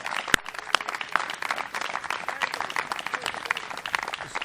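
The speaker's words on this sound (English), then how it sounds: "Let's give one more big round of applause to these young kids from Woodland Design." Steady crowd applause from an outdoor audience at a park dedication ceremony in Wayne County, with a few sharp, close claps standing out early on, sustained and fairly even throughout.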